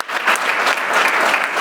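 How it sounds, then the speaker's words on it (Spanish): An audience at a health summit panel on mental health applauds the panelists, a short burst of dense, steady clapping heard close and fairly loud. "un fuerte aplauso por sus valiosos aportes"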